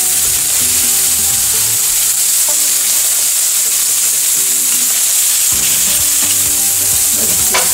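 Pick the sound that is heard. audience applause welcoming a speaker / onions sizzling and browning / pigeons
onions sizzling and browning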